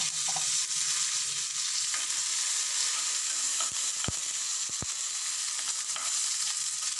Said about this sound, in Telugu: ఇవి వేసి కొంచెం వేగిన తర్వాత అప్పుడు మనం కరివేపాకు, పచ్చిమిరపకాయల పేస్ట్ కరివేపాకు వేసుకున్నాను